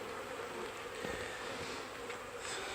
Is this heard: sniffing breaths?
no